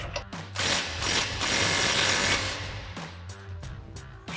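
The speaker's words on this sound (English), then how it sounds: "we'll grab our 18 mil socket and swivel adapter on our impact" An impact wrench with an 18 mm socket and swivel adapter loosens a ball joint nut on a Ford F-150 front suspension, giving a few loud rattling hammering bursts with short pauses, close up.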